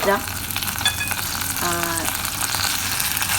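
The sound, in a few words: dry duck leg sizzling in pan with ginger and shallot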